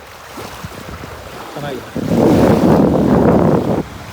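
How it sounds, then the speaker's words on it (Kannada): Wind and crashing waves at Meenakshipura build into a loud, broad roar for about two seconds, after brief speech over a softer windy background. "ಗಾಳಿ, ಹಾಗೆಯೇ ಕ್ರಾಶಿಂಗ್ ವೇವ್ಸ್ ಸದ್ದು ಕೇಳಿಸ್ಕೊಡಿ"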